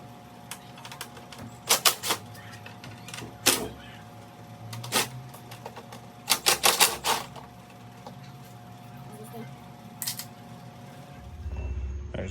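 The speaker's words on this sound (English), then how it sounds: "I'm using a impact, and I like to put a swivel socket on the end" An impact wrench fitted with a swivel socket loosens bolts on the engine of a 2017 BMW 330i (F30) during a spark plug replacement. It fires in several short, loud rattling bursts, some clustered together, separated by quieter pauses.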